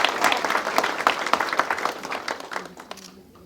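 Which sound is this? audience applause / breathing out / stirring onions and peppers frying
audience applause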